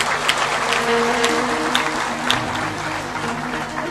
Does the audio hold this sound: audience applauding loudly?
yes